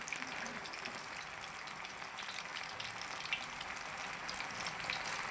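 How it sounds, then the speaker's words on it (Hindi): Chicken wings deep frying in hot oil give a steady, bright sizzle and crackle that holds evenly throughout, close and moderately quiet, with no voices. "इसको आपने डीप फ्राई करना है।"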